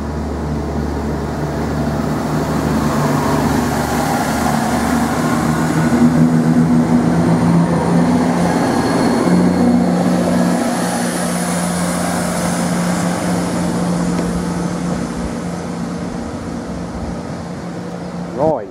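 A GB Railfreight converted Class 69 diesel locomotive rolls into Ely station with a loud sustained engine drone and low rumble, building and holding steady over many seconds, close by.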